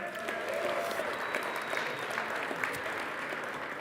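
Sustained applause from an audience at a winter livestream event at Palisades Tahoe, honoring sponsors, dense and steady throughout with a faint voice briefly rising through the clapping.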